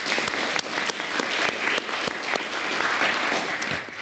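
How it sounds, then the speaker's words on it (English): Audience at a CRVS research forum session applauding its speakers, dense steady clapping from many hands throughout, fairly loud and close, without pauses. "let's give a round of applause to all the great 3 speakers"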